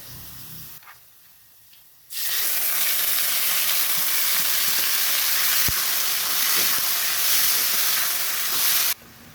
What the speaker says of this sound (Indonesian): Setelah ini masukkan semua daging yang tadi dimarinasi, semuanya ya, sama bumbu marinasinya aja.